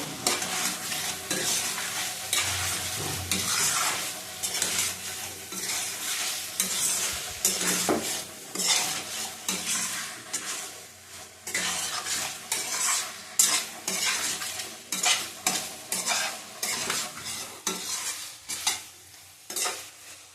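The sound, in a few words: stirring and frying catla fish in spices in a pan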